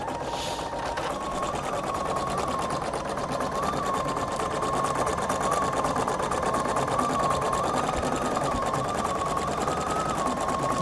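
A Husqvarna Viking Designer Brilliance 80 sewing machine runs at a steady pace, giving a continuous whirring hum and a rapid rhythmic needle chatter from close by, with no pause.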